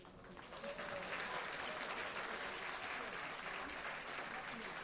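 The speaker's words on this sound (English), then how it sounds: "a huge round of applause for the champions of the first RRU International Moot Court Competition" Applause from the audience for the champions of the RRU International Moot Court Competition, a sustained, even roar of many hands clapping at moderate distance, fairly quiet overall with faint voices mixed in.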